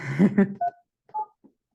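Telephone keypad dialing tones on a meeting-room phone, dialing 9 for an outside line: a few short, quiet beeps spaced apart, following a brief bit of speech.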